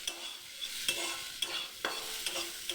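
Spice masala fries in a pan with two small tomatoes stirred in, a bright hissing sizzle punctuated by regular scraping strokes of a spatula, close and with no talking.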